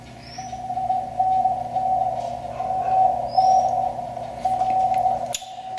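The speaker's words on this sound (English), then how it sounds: "Let's listen in on a little bit of CW here" Morse code (CW) comes through a small RS-918 transceiver speaker as a steady keyed tone of short and long pulses. The pulses repeat rhythmically over a faint background hiss.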